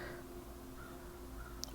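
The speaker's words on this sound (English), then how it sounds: "I've also been seeing crows, and I know you guys can hear it in the background as well." Crows caw faintly in the distance, a couple of soft, far-off calls under a low steady hum.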